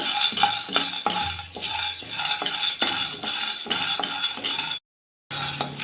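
Peanuts dry-roasting in a pan over a low gas flame for bitter gourd gojju, a spoon scraping and clinking against the metal in a steady, repeated stirring rhythm, close and fairly loud, with one short silent gap.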